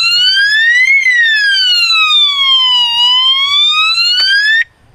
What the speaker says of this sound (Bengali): সাথে সাথে বেজে উঠবে এই বাইক থেকে উচ্চ শব্দে অ্যালার্ম